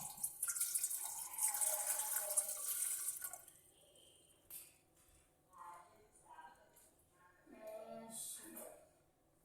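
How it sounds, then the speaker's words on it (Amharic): Water pours into a container while a home remedy for dandruff is being prepared, a steady splashing and trickling stream for a few seconds that then fades, followed by drips and small clinks as someone talks. "ውሃውን በዚህ ሙሉ ማለት ነው።"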